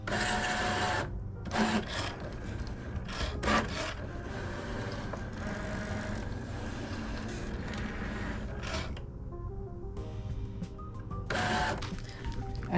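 A Cricut cutting machine kiss-cuts a sticker, whirring and scraping steadily, its carriage moving back and forth in short mechanical passes with brief pauses, close and fairly quiet.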